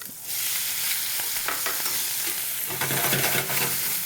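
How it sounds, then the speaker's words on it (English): Steady, loud sizzling of shrimp frying in butter in a pan, a continuous crackling hiss with occasional stirring clatter. "You hear that butter start to sizzle around?"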